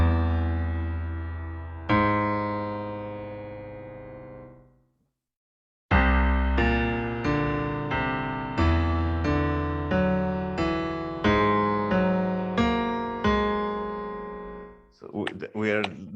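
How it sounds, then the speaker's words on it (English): Sonified fractal triangle curve built from three equally spaced notes of a twelve-tone scale, heard as a long held tone, a pause, then a steady run of bright plucked synthetic notes in a regular rhythm, ending on a brief burst of noise. "which is sonification of fractal curves"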